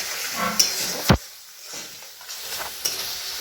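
Masala spices frying in oil in a pan for chicken do-pyaza, a soft steady sizzle broken by a few sharp scrapes and clinks of a spoon stirring against the pot, close and alone.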